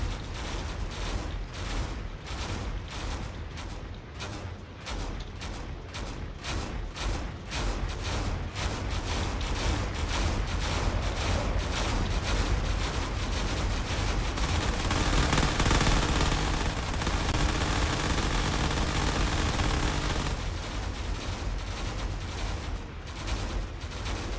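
Dense, continuous cannon fire and rapid gunfire from turrets in the Drone Wars space-combat game, with loud overlapping bursts that roll on steadily throughout and no voices.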